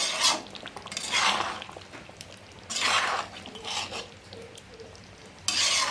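Soybean curry being stirred in a pan after adding garam masala and kasuri methi. Several separate bursts of spoon scraping and stirring come close and clear over a faint sizzle, with no talking.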